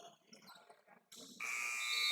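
Basketball game buzzer at the end of a quarter in a gym, a loud sustained electronic tone cutting in after quiet crowd murmur and ringing on steadily.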